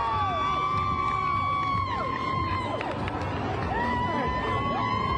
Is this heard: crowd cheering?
yes